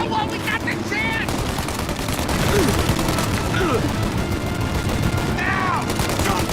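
Gunfight in the Mafia video game: steady bursts of gunfire crackle throughout a dense, loud firefight, with distant shots and whistling sounds layered under the continuous noise.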